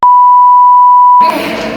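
A loud, steady censor beep tone held for over a second, cutting off sharply into a burst of broadband noise at the end.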